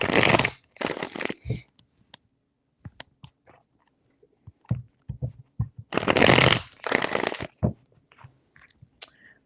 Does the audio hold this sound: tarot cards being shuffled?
yes